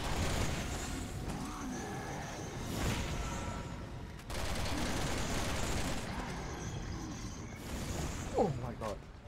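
Video game gunfire crackles in a few sharp, broadband bursts over a steady, noisy battle background, with quieter stretches between the loud volleys.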